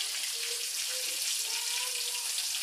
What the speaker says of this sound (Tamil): இப்போ இதில் மீனை பொறிச்சு எடுக்க பொறிச்சு எடுத்துட்டால் நமக்கு மீன் வறுவல் ரெடி.